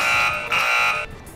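A kitchen timer alarm goes off with a loud, steady electronic beeping tone that breaks briefly midway, then resumes and cuts off abruptly.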